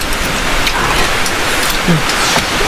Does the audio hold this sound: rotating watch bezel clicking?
no